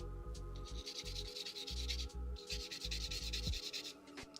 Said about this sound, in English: So I'm just going to take a little bit of sandpaper